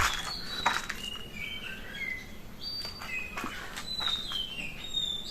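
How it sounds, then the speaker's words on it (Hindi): Several birds chirp and whistle in short, bright calls scattered across a quiet forest near Sattal, some faint and distant, others nearer, over soft background ambience. "आप सुन भी सकते हो, पक्षियों की चहचहाट।"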